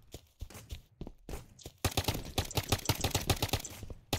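A gorilla rifle fires in a video game: sparse shots at first, then a rapid, loud run of repeated reports from close by, with no talking.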